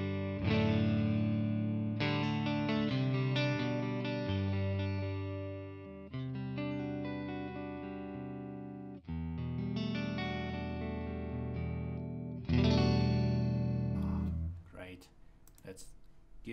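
Electric guitar played through a Tonex ONE pedal's Phoenix Clean Fat amp model, with sustained chords and notes in several phrases, close and clean with a rich tone, ending in a few lighter strums.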